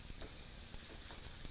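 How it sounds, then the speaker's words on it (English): Small meat patties sizzling in a frying pan, a steady close crackle and hiss with faint scraping, no voices. "Few at a time, don't crowd them into your frying pan."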